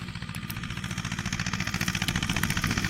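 A small T-25 diesel tractor engine idles with a steady, rapid chugging pulse, close and fairly loud, getting slightly stronger toward the end.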